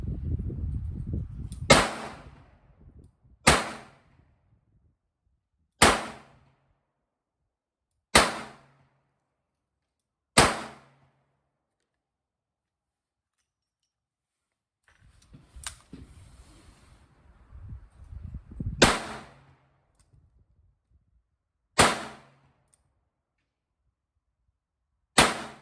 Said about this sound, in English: I'm just out here to shoot a few targets with it just to get the feel for it and enjoy a 3-inch Smith & Wesson J-frame